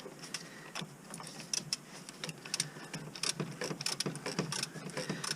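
A socket wrench ratchets down an oil filter on a Chevy Sonic, giving close, quiet clusters of irregular clicking bursts with short pauses between strokes.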